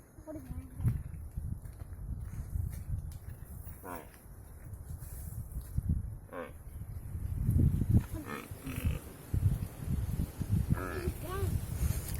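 Buffaloes on a farm tethering spot shift and low faintly at a distance, with occasional grunts and movement noises while people talk nearby.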